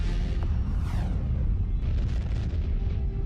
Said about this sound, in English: a massive star explodes, sending a lethal burst of energy rocketing toward our planet.